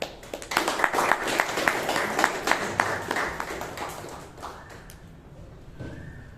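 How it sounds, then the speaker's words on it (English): A crowd at a Toastmasters meeting in Bangalore applauds, a dense wash of clapping that is loud at first and gradually fades out over several seconds. "Let's give a warm round of applause to Ravivarma."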